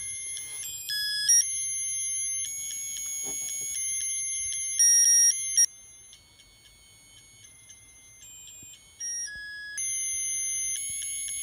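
Novelty white candles play an electronic song that won't stop, a shrill, tinny beeping melody of high tones shifting pitch steadily, with no voices.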